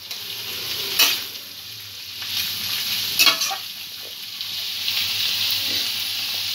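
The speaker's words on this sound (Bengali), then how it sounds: "সবজিটা কিছুক্ষণ ভাজা হবে," Vegetables fry in a pan for crispy noodles, giving a steady, close sizzle across the whole clip with a few brief stirring scrapes and clatters, and no voices.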